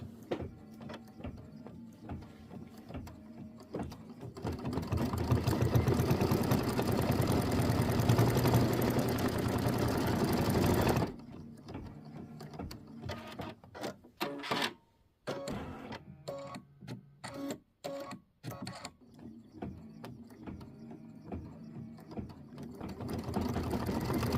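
A sewing machine stitches a placement line on a Kimberbell butterfly-block mini quilt, running steadily for several seconds, then stopping and restarting in short stop-start bursts toward the end.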